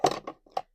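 Scissors cut through hackamore rope material in three quick crunching snips, the first loudest and the others shorter and quieter, each sharp and close with silence between.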